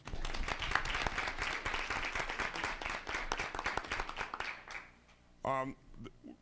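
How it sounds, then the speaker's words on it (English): A room at a school district board meeting breaks into applause, several seconds of dense steady clapping that fades out before a single voice speaks. "I'd like to give them a round of applause"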